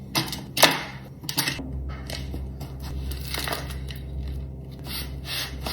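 Dry granola clusters scraped and spread by hand across two baking sheets, giving scattered crunchy rustles and a few sharper clatters over a low steady hum, with no talking.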